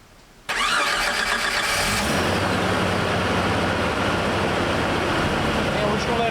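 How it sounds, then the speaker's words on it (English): A 1993 Jeep YJ engine cranks briefly and catches, then settles into a steady, loud, close idle that continues to the end. "We're going to fire it up and give it a test drive."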